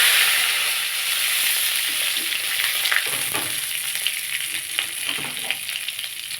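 Two bay leaves hit hot oil with a loud burst of sizzling that gradually settles into a steady, softer frying crackle with a few small pops and stirring sounds.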